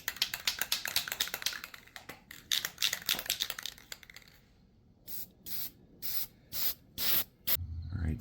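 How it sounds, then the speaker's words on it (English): A spray paint can lays a thin coat on a giant metal d20, starting with rubbing and clicking handling noises, then six short hissing bursts in a steady rhythm, close and fairly loud. "Now I'm just going to put a thin coat of spray paint on it."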